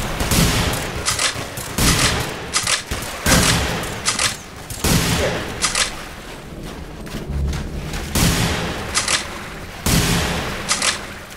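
Gunfire in the multiplayer shooter The Hidden, with repeated loud bursts and volleys of shots that crack out in quick clusters, separated by short gaps across the stretch.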